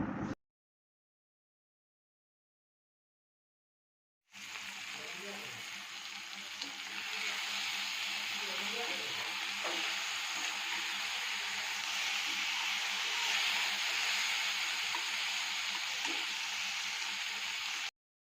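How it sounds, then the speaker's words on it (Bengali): Marinated tengra fish and spices frying hard on a high flame, a dense continuous sizzle that starts abruptly after a few seconds of silence and holds steady and close, with faint stirring scrapes. "এখন আগে থেকে ম্যারিনেট করা মাছ দিয়ে ভালো করে গ্যাসের ফ্লেম হাই করে একেবারে কষাতে থাকবো"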